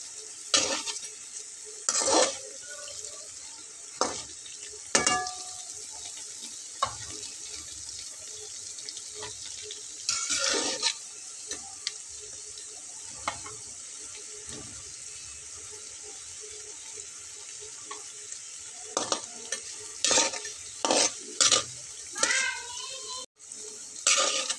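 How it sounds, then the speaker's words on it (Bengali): Suji potato snacks fry in hot oil with a continuous crisp sizzle, punctuated by irregular sharp clinks and scrapes of a spatula stirring in the pan, fairly close. "শব্দটা শুনুন, এখনও ভাজা কমপ্লিট হয়নি, কিন্তু শব্দটা দেখুন, একদম ঝুরঝুরে ক্রিস্পি একদম।"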